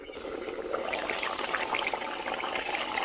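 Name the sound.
Bengali pea and potato curry simmering, boiling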